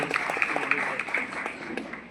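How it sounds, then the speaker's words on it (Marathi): Audience applause rings out for the organizers at a singing competition prize ceremony, a steady moderately loud patter of many hands clapping, heard from within the hall. "आयोजकांसाठी एकदा जोरदार टाळ्या या ठिकाणी झाल्या पाहिजे"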